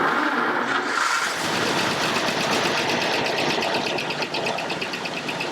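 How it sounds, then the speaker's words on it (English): A 1935 Cadillac V12 Town Cabriolet engine starts and settles into a smooth, steady idle, a close, even mechanical hum with a faint regular ticking running underneath. "the car starts easily, runs smoothly"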